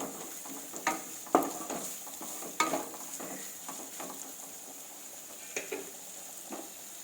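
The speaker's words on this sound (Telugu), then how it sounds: "ఇది బాగా ఫ్రై అయిపోయింది." Something fries in a pan until brownish before potatoes go in; a faint, low background sizzle with a handful of sharp stirring clinks and scrapes spread across the clip.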